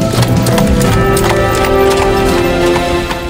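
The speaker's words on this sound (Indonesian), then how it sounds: "sepertinya ada saingan Bunda yang naik kuda tuh" Horse hooves clip-clopping beside a rider in a children's dancing-horse show, heard as a steady stream of hoofbeats that is loud and continuous under dense music.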